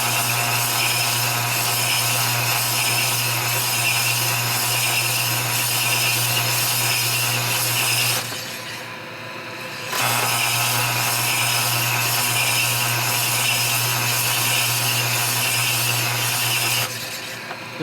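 A hone spins inside a 1972-85 XL 3-7/16 inch big-bore finned motorcycle cylinder, a loud, steady grinding whir that stops briefly partway through and then resumes, with no talk.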